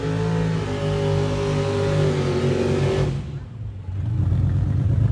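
Loud, close drag-racing engine roar from the Bad Influence Nova 2 gasser lining up against a turbocharged six-cylinder Grand National, a steady heavy drone that drops briefly and then surges back, with crowd and announcer noise faintly underneath.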